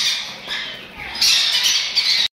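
A parrot at a Sunday bird market in Bahawalpur squawks in several harsh, close bursts over about two seconds, with no talk over it.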